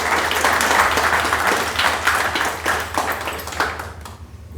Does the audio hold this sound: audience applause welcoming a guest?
yes